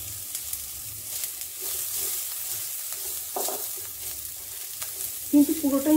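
Chopped onions frying in a pan for chicken soup, a steady low sizzle with occasional stirring scrapes and a louder burst of clatter near the end, no talking.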